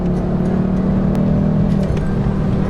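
A Ford Focus ST engine drones steadily and loudly as it accelerates, with a constant road rumble and no voices.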